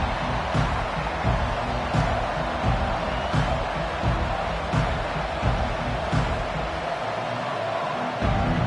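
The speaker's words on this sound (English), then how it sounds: "This crowd, full throat, spreading the eardrums and letting them know it's going to be a long day" A stadium crowd roars continuously in a Notre Dame at Ohio State college football video game, a dense wash of cheering with periodic swells, with no talk over it.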